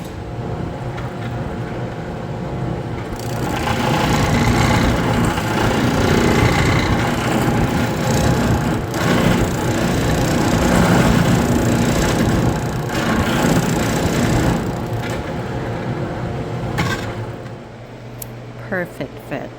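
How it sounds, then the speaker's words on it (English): Oscillating spindle sander shaping small curves in wood, with a continuous motor drone and gritty sanding noise that rises as the wood meets the spindle and fades near the end. "I'll be using an oscillating spindle sander to achieve all these minute little curves in the center to accommodate for the circle."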